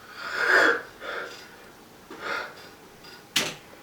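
A man vocally imitates a reverse breathing sound of someone waking up, a few airy wheezing inhales and snorts ending in a sharp gasp.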